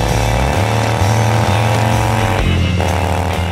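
Arlen Ness custom motorcycle fitted with a MagnaFlow exhaust, throttle cracked open in loud, steady revs with a brief dip and recovery, close and alone with no talking.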